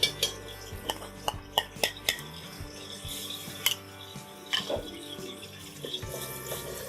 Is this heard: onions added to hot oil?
yes